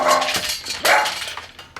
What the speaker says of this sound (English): a wild mechanical barking from the back of the building, and Lakshmi stiffened